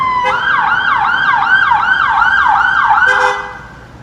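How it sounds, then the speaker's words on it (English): A loud emergency siren wailing in a fast rising-and-falling pattern, close by, then abruptly cutting off near the end. "We will get to the sirens now"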